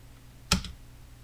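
A single sharp press of the Enter key on a computer keyboard, one close click against quiet room tone.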